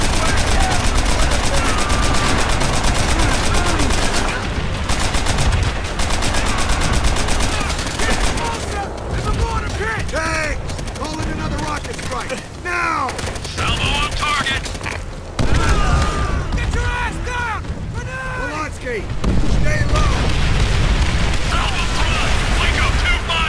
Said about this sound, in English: Get on those MGs and tear them up!